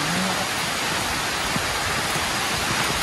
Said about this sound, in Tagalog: Oh my God, malakas ang ulan.